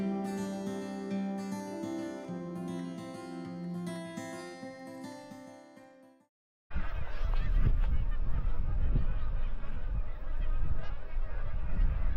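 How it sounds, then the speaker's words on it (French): Geese honk in a rough, noisy cluster after a short pause, loud and close, following several seconds of a different harmonic tonal sound. "Ça doit être des oies."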